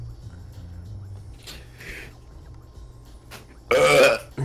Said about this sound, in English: You burp!